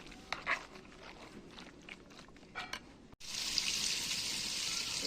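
Fish frying in a pan inside a tent in Gaza, a steady bright sizzle that starts suddenly and holds loud and close after a few quieter clinks and rustles.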